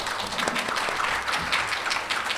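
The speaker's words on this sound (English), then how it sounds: "Let's give him a big round of applause." Audience applause at a medical data symposium in Korea, a dense, steady wash of many hands clapping that fills the whole moment with no pauses.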